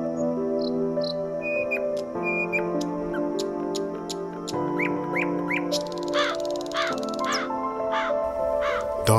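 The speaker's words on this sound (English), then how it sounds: "Dawn signals the crows to start their jabbering." Crows caw repeatedly at dawn from a willow tree, harsh calls coming in quick bursts over a steady background hum, some near and loud, others overlapping.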